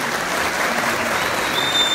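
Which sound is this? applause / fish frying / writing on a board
applause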